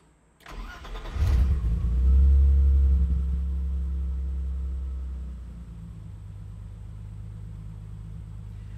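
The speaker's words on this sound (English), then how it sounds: "what we should notice on that restart is that the engine should run cleaner" A BMW E30 engine cranks and catches with a short starter whir, revs up into a loud rumble, then settles back to a steady, lower idle that drones on alone.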